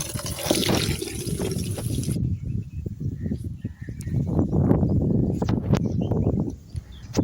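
Water runs from a tap at a farm as hands and feet are washed, a steady close rush that shifts from a bright hiss to an uneven, splashing flow partway through, with no talking.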